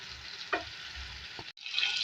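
Chicken fries in a pan as it is flipped, a soft steady sizzle with a couple of scraping knocks and a brief break before the frying hiss swells again.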